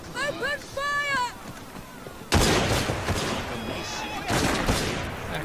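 Rooks gang members fire guns in the video game Assassin's Creed Syndicate. Voices are heard first, then two loud, heavy bursts of volley fire ring out close by.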